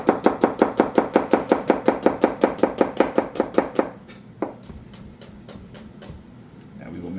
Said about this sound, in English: very fine slices of onion